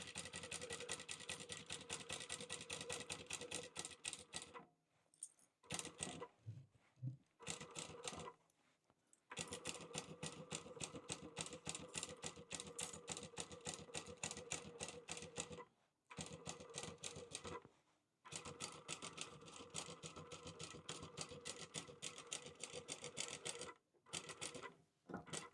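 A sewing machine stitches a seam on the vinyl lining of a wristlet in rapid, steady bursts of mechanical clatter, stopping briefly several times between runs, fairly quiet and close, with no voices.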